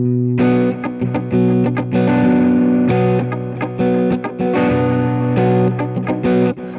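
An electric guitar plays through a stereo rig's delays with the chorus switched off, distorted chords ringing loud and steady with echoing repeats, with no voices over it.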